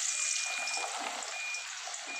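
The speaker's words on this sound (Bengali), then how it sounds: "তেলটা গরম হয়ে গেছে, এবার আমি দিয়ে দিলাম আলু।" Potato strips, cut long and thin as for fries, sizzle steadily in hot oil in a wok, a soft, even crackle that holds throughout with no voices.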